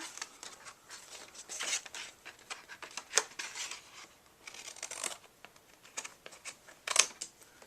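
Scissors trim small paper segments from a treat box template, a series of quiet close snips and paper rustles with two sharper clicks, no speech.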